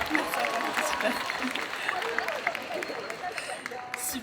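Applause fills a hall for a cosplayer at a Japan Addict convention cosplay contest, a moderate wash of clapping with scattered voices and cheers from the crowd mixed in.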